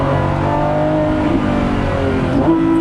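A Lamborghini Revuelto's V12 screams under hard acceleration, a loud continuous engine howl that rises in pitch with quick gear changes, heard from inside or close by.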